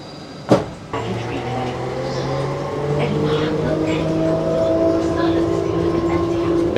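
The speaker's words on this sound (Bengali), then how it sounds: "এবার এই ট্রেনে উঠতে হবে, ট্রেনে উঠে ব্যাগেজ রিক্লেমে যেতে হবে।" Dubai airport's shuttle train to baggage claim starts after a sharp thump, its motor whine climbing steadily as it rolls along, loud and close from inside the carriage with voices in the background.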